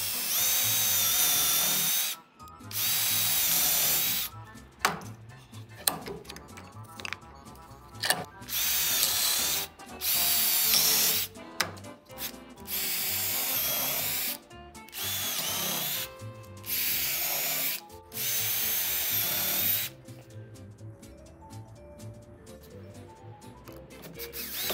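A power drill fitted with a countersink bit bores into mitered wood for a catapult build, running in repeated loud whirring bursts separated by short pauses, with no talking.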